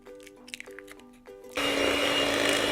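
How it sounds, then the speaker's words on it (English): An electric mixer whizzing butter and sugar cuts in suddenly after a few quiet tonal blips. It then runs as a steady, loud, close whirring drone to the end. "you want to whiz this up till the butter and sugar are really light"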